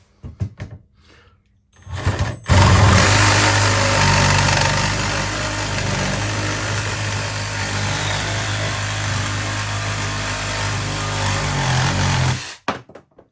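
A Makita power tool fitted with a blade kicks on abruptly and runs loud and steady for about ten seconds, a harsh constant drone, before cutting off sharply.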